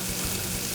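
Garlic sizzling in a hot pan during a chef's cooking competition, a steady close frying hiss that continues evenly throughout without any voices.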